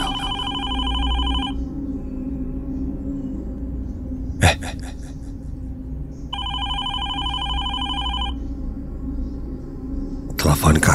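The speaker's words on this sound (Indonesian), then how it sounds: "telepon kantor berdering" An office telephone rings in a radio drama, two long bursts of a shrill electronic ring separated by a pause and a sharp thud, over a low dark rumble, with a crash at the end.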